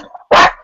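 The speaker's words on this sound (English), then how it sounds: "Whose dog is that?" A dog gives one loud, close, sharp bark after a brief murmur of faint background sound.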